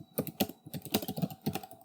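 Close, quick keystrokes on a computer keyboard, about a dozen crisp clicks in uneven bursts with no talk over them.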